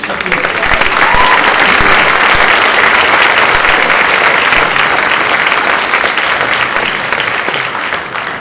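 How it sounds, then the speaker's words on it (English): A large audience at a 2015 high school academic excellence awards ceremony gives students a dense burst of applause. The clapping is loud and sustained for about eight seconds and eases off slightly at the end. "please clap for these students."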